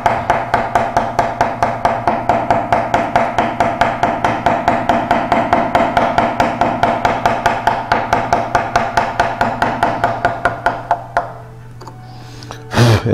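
Steady, rhythmic mallet taps drive a V chisel through wood while carving a fan on a Queen Anne lowboy, about four crisp close strikes per second for eleven seconds, then stopping.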